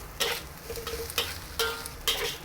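Ketchup fried rice with sausage is stir-fried in a pan: about four rhythmic scraping strokes of the spatula rise over a constant soft sizzle, close and moderately quiet, with no talking.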